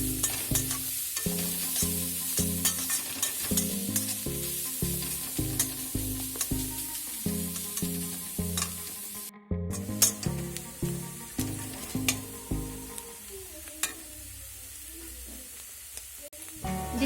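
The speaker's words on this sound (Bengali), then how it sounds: "এখন দিচ্ছি কুচানো গাজর এটাকে একটু ভেজে নেব এখন" Grated carrots frying in a pan, a continuous sizzle with a quick, even rhythm of scraping stirs. There is a short break partway through, and the stirring turns slower and more scattered afterward.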